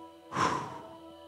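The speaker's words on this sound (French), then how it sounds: "Soufflez fortement." A single forceful exhale, breath blown out hard through the mouth during a relaxation breathing exercise, close and fairly soft, rising and fading within about half a second over a quiet background.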